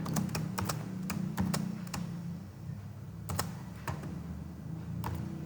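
A computer keyboard is typed on in quick irregular bursts of crisp key clicks while Java code is entered, close and clear over a low background hum, with brief pauses between runs.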